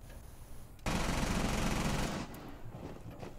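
Rapid automatic gunfire in Rainbow Six Siege, a loud sustained burst lasting just over a second, dense and close, with quieter game ambience before and after.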